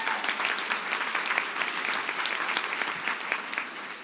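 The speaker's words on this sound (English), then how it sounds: "Let's give her a big round of applause." An audience at a live speaking event welcomes speaker Liz Lidgett with a big round of applause, steady crowd clapping with distinct individual claps standing out, holding level throughout.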